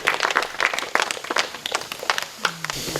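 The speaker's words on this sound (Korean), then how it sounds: "여러분 박수로 한번 크게 성원해 주시면 고맙습니다" A forum audience gives a scattered round of applause as a guest is called to the front. The claps are uneven and loose, and a voice briefly sounds near the end.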